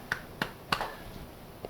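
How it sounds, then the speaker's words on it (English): Three sharp, separate claps ring out about a third of a second apart, with a faint fourth at the end, as players clap their hands above their heads during a tabletop skirmish game. "Clap your hands above your head."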